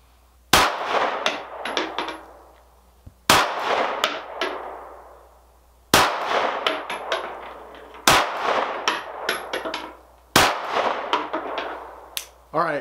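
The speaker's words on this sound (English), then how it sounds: "we'll just do 5 shots at this target, 7 yards, and we'll see how it does for accuracy right out of the box" Five sharp shots from a Springfield 9mm Ronin 1911 pistol fired at a target seven yards away, spaced about two to three seconds apart, each loud report followed by a short ringing decay with faint metallic pings.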